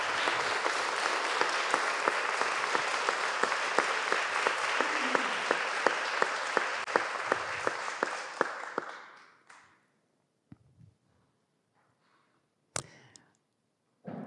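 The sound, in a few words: audience applause for musicians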